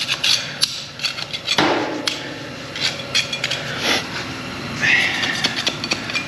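Hardened expanding foam filler is scraped and skimmed off a wall close by. Irregular knocks, scrapes and rasping strokes come in uneven bursts.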